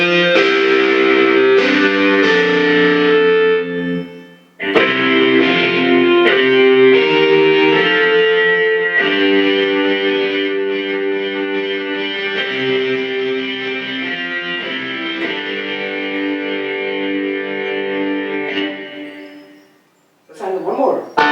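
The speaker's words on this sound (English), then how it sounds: "And I'm going to see a distortion guitar." A Casio CTX 9000IN keyboard's distortion guitar voice plays sustained chords and notes, loud and buzzing, with brief pauses between phrases.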